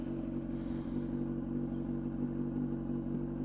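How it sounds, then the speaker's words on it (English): A motorcycle engine idles steadily and close by, a continuous low rumble with no clear revving. "go ahead and start the bike"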